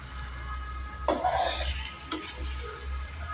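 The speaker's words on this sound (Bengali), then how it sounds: "মাংসগুলো আমি ভালোভাবে নেড়ে দিচ্ছি।" Marinated chicken pieces sizzle in a hot pan while being stirred, with a sharp scrape and clatter of the utensil against the pan partway through, close up and steady, with no voices.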